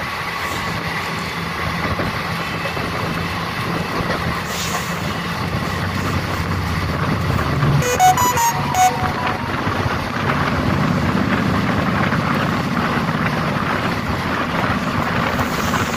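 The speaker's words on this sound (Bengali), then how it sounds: "কোনো এডিট করা নেই, ট্রেন যেমন যাচ্ছে, যে স্পিডে যাচ্ছে" Haldia 22330 superfast express train running at speed, heard from the open door, a steady loud rumble of wheels on rail with rushing wind noise and a brief metallic rattle midway.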